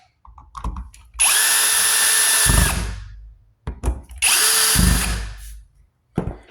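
A power drill driving screws to mount a wall outlet receptacle in an apartment: two sustained loud whirring bursts, each a couple of seconds long, with short clicks, bumps and a brief final buzz between them, no speech.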